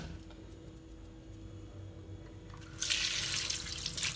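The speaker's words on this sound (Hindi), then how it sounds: "इसको मैं अच्छे से धोती हूँ" Water chestnuts being washed under a running kitchen tap: a low steady hum at first, then the tap water gushes in loudly and keeps splashing, close and with no talking.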